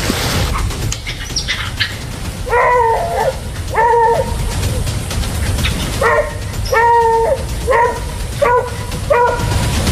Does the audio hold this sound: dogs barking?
yes